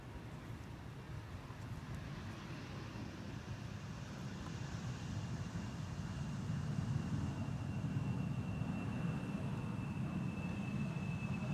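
Aircraft approaching the Polderbaan runway at Schiphol, Amsterdam: a steady broadband jet roar that slowly swells louder with no talk, heard from some distance as the plane nears.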